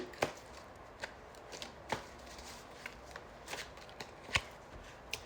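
Tarot cards being shuffled and drawn from a deck, heard as soft, irregular papery flicks and taps close by, with no voices present.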